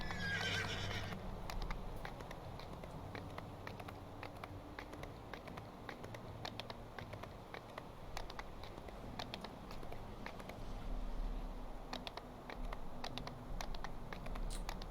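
A pony in a video game whinnies at the start, then hooves clip-clop steadily and crisply for the rest of the stretch over a faint background bed, no talking.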